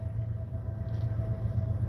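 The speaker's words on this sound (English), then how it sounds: "God, I just get caught by a freight train" Low, steady rumble of a freight train passing nearby, a continuous droning roar with no talking.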